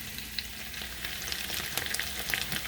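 Potatoes frying under a lid in a covered pan, a steady soft sizzle with scattered crackles and pops, close and fairly quiet, no voices.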